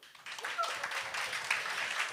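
Audience applause at a stand-up comedy show, a steady wash of many hands clapping that starts after a short pause and continues throughout, with a voice faintly underneath.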